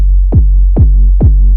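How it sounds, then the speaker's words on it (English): Three hard, distorted kick drum hits from a Roland TR-8S drum machine, each a booming thud with a gritty, overdriven tail, spaced evenly at roughly half-second intervals and played loud and close. "a little bit distortion on purpose"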